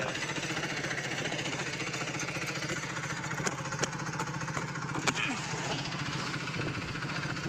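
A tractor engine runs loud and steady on a village road, a continuous rough chugging drone with a few faint clicks over it.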